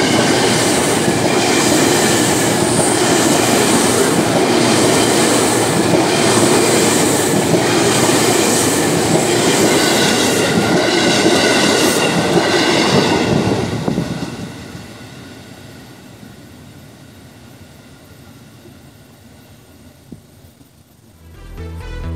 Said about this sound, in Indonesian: Ini KRL Rangkas gitu.